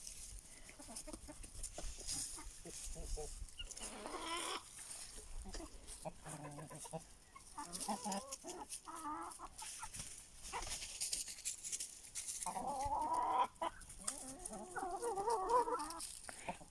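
Aseel roosters and hens cluck and call at moderate distance in a farmyard, with intermittent bursts of clucking and a few louder crowing-like calls toward the end over quiet background.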